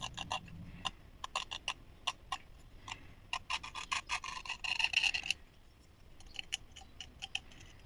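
A 0.2 mm scribing bit in a tool holder cuts panel lines into a 1/24 Toyota Supra GT-300 model car body, making dry, close scratchy strokes in quick irregular bursts, with one longer rasping pass.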